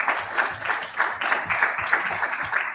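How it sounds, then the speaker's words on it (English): Audience at the India Supply Chain Conference ISCON 2023 gives a round of applause, a sustained crowd clapping with a steady pulse, moderately loud and continuous, no speech over it. "Please give them a big round of applause"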